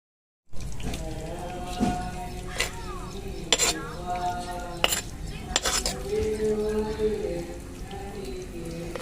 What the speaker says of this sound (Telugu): ఇప్పుడు గారెలు ఇప్పుడు మనం ఇలాగా రెండో వైపుకి తిప్పుకుందామండి